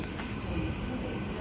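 A train at Kogarah station in Sydney gives a steady, fairly quiet rumble of rolling carriages, with no distinct events in the brief stretch.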